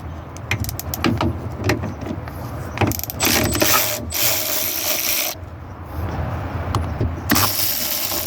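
A wrench ratchets in quick, irregular clicks as it takes out the 10 mm bolts holding a 1999–2006 Chevrolet Silverado or GMC Sierra side mirror. The metallic clicking is close and loud, with no talk.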